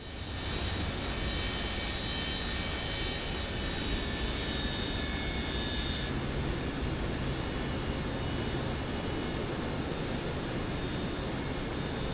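A simulated Boeing 727 jet taxiing on the ground, a loud, steady turbine whine and roar with a high tonal hum that drops away partway through while the broadband engine noise continues.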